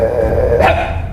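A person imitates a dog, giving a single short yelping bark in a human voice, loud and close, with no other sound around it.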